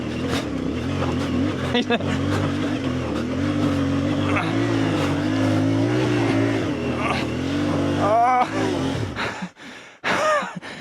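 A CFMOTO 450 MT adventure motorcycle engine drones and revs hard while climbing a steep off-road hill, loud and close, with a voice talking over it and the engine cutting out near the end.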